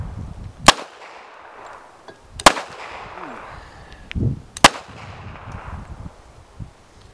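Three sharp, loud gunshots spaced a couple of seconds apart from a .45 ACP firing 96-year-old ammunition made in 1918, each a crisp crack over a quiet outdoor background.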